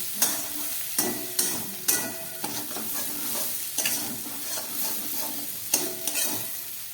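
Chicken tarka with spices being stirred and fried over low gas, a steady soft sizzle broken by repeated scraping stir strokes at an uneven rhythm, close by with no voices.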